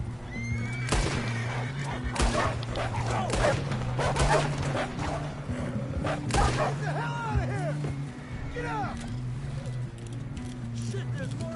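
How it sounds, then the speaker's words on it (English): Wolves attack in Red Dead Redemption II, with snarls and barks mixed with horse whinnies and hoof sounds, while a voice speaks over the chaotic, continuous scuffle. "We got more wolves on the left."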